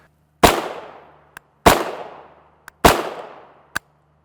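A UTAS USA UTM 9 Mini straight blowback 9mm carbine with a brace fires 124-grain FMJ rounds in three loud, sharp single shots about a second apart, each decaying with echo and followed by a faint metallic click.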